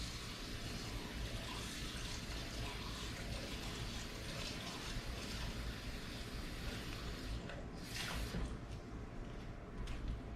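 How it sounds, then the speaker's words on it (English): Water runs into a cast iron skillet after gravy-making, a steady close gush and splash that holds for several seconds, with a brief louder surge near the end and no speech. "when I get finished with my gravy in my cast iron, I always put water in it"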